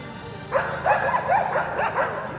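Several dogs bark in short overlapping bursts outdoors, a lively cluster of yips and barks at moderate distance with no talking.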